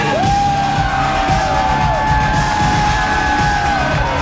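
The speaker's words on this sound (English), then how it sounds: "you hear the reaction from this crowd when El Diablo steps out" A loud crowd yells, whoops and cheers as a masked wrestler comes out at a live Saturday night wrestling show, with a rising siren-like whistle tone cutting through the sustained roar.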